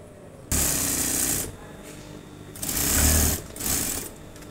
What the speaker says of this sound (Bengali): ফ্রন্ট পকেট সেলাই করা দেখব।